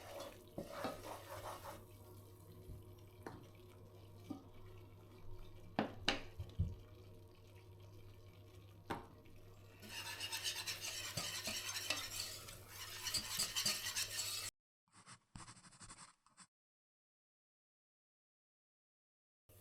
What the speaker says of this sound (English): I'm then adding plain flour to begin making a roux.